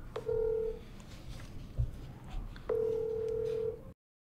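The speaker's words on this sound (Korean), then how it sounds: "스트릿 댄스 팀 올트랙의 김백윤 대표님과의 전화 연결인데요." A telephone call is being connected: two long ringback tones sound clearly, separated by a pause with a brief click, before the line goes silent.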